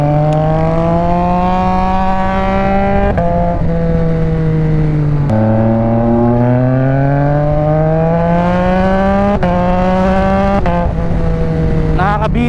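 A motorcycle engine revs hard through repeated gear shifts, the pitch climbing and dropping with each change, loud and close throughout.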